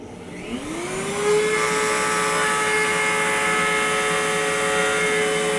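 A wood router rounds over the edges of a wooden cutting board in a woodworking shop; its motor spins up with a rising whine, then holds a steady, loud high-pitched drone with cutting noise for several seconds, no voices.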